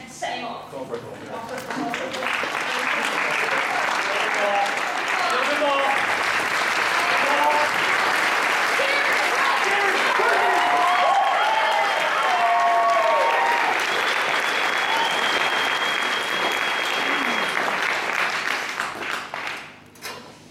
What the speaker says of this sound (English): bring the big round of applause, and we can set him off.